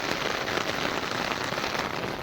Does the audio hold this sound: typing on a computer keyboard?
no